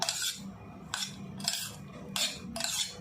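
A spoon stirring Russian salad ingredients in a bowl, five bright clinking scrapes in an uneven rhythm, close and clear with no voices.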